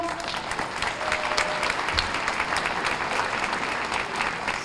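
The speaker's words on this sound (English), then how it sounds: "So a round of applause for Joliet Central." An audience applauds the hosts, Joliet Central, at a Take Back the Night 2019 gathering: dense, continuous clapping from a sizeable crowd, steady and fairly close, with no talking over it.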